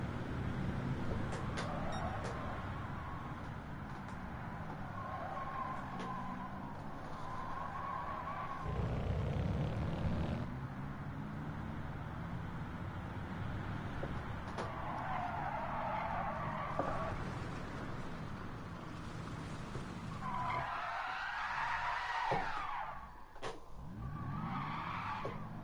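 Race car engine roaring continuously through a racing video game session on a track with a flat-out Curva Grande, with repeated tire squeal and skidding through corners, loud and close throughout.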